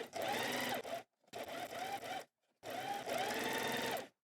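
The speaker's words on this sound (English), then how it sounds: "we stitch along the edge following the line of the curve, using a straight stitch" A sewing machine runs a straight stitch along a curved fabric seam in three close, loud bursts of steady whirring separated by brief pauses.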